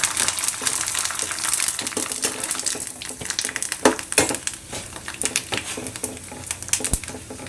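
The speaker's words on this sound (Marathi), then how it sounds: "मी हे पापड तळायला घालते किती फुलते बघा" Fasting papads are fried in hot oil and pressed down, producing a loud bubbling crackle with irregular crisp pops and scraping bursts that rise and fall throughout, without any speech.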